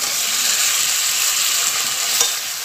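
Pre-fried pointed gourd and potato drop into a pan of frying spices and sizzle steadily. A continuous loud hiss carries on with a brief clatter near the end and no talk.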